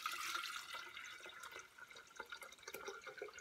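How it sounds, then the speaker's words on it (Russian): Water pours from a SLARUM electric kettle in a steady, faint trickle with small splashy surges, close and alone without talk. "На кнопочку нажала и наливаю водичку."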